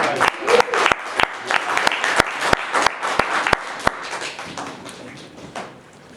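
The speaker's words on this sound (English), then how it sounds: "Give him another round of applause" Audience applause welcoming Brother Jeff on stage at a gathering of family leaders in Five Points, with dense clapping from a room of people and some sharp, loud claps standing out. It tapers off over about six seconds.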